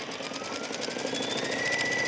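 An embroidery machine stitches a placement outline for a small cork oval on an in-the-hoop sticky note pad holder, a fast, even needle chatter with a faint whirring hum.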